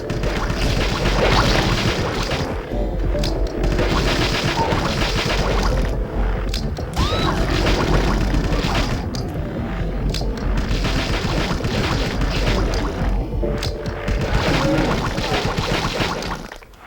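Monster-shooting combat in the Dreamcast game D2 set in an observatory, with dense, continuous game sound of booms, crashes and gunfire-like bursts running loud and steady throughout with no talk.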